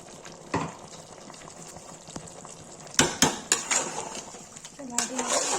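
Chicken bhuna masala being stirred in a pan as tomatoes go in, with scraping utensil clacks against the metal, a few sharper knocks midway and a soft background sizzle, no voices.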